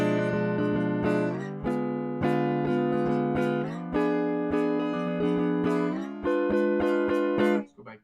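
Guitar playing a sequence of inside chords, each struck cleanly and left ringing in a steady rhythm, close and clear with no talking, fading out at the end.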